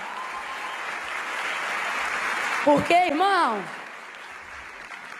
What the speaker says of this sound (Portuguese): aplaude com vontade